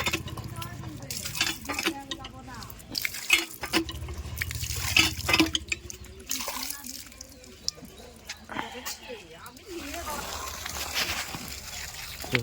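Water pours from a motor pump onto a village house plinth, a continuous splashing, gurgling flow with a steady pump hum underneath, while people talk over it now and then.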